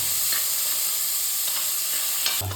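Chopped garlic and ginger sauté in hot oil for channa masala, a steady close sizzle running throughout with a few soft stirring scrapes and a brief clatter near the end.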